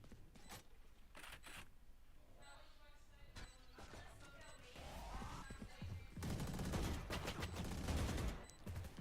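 Gunfire rattles in a Valorant college esports match, sharp bursts and single shots in irregular clusters, louder sustained volleys near the end, mixed with game effects and faint commentary.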